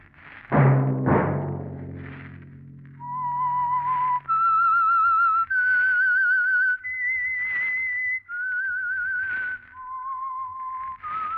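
A loud, clear whistled theme melody of sustained, slightly wavering notes, preceded by a couple of sharp resonant plucked or struck tones at the start, from the radio mystery program The Whistler.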